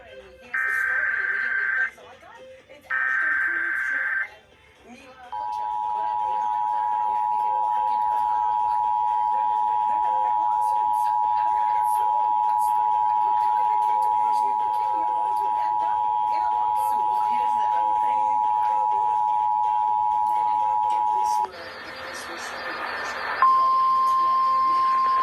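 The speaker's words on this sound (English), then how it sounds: "Emergency Alert System and NOAA Weather Radio's warning alarm." An Emergency Alert System test broadcast: two bursts of harsh data tones, then the long steady two-tone NOAA Weather Radio warning alarm, ending in another data burst and a brief beep, loud and clean.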